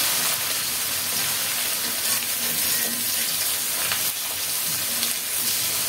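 Pieces of rui fish sizzle loudly and steadily in foaming mustard oil, a dense close crackle that never lets up.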